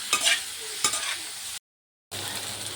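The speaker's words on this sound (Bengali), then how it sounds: "চিকেনটা তত সময় ভাজতে থাকবো যত সময় না একটা গোল্ডেন কালার চলে আসে চিকেনের মধ্যে।" Chicken fries with ginger garlic paste for a restaurant-style chicken bhuna masala: a close, steady sizzle with stirring scrapes, broken by a brief total silence.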